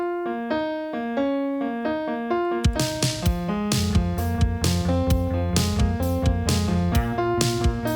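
Dry piano outro without the Abbey Road effect, opening with a few soft sustained melodic notes before a fuller band entrance with drums and bass joins, building into a louder rhythmic passage with no voices.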